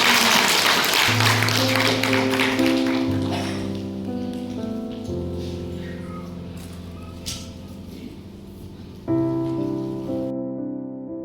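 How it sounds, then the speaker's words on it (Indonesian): Applause from a congregation at a church worship service and celebration in Papua, a dense wash of clapping for the first few seconds that thins out as sustained music takes over and plays on alone. "kita beri tepuk tangan untuk Catherine dan Mama"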